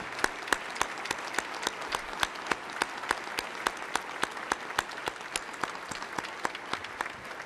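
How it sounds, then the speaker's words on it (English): In a legislative chamber, people applaud to honor Vietnam veterans, a thin, steady patter of clapping with sharp individual claps sounding close and regularly spaced. "And let's give them a round of applause."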